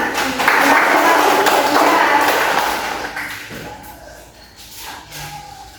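Classroom of students clapping for a group after their presentation, a loud burst of mixed claps that fades over a few seconds into softer shuffling and scattered taps, with a voice heard near the end.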